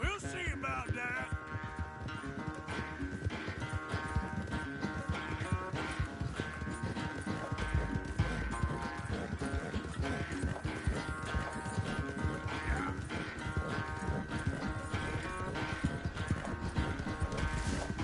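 Horse hooves clip-clop steadily through the whole stretch in Red Dead Redemption II, a continuous rhythmic trot set under a dense layer of game music and ambience, with a brief whinny possible.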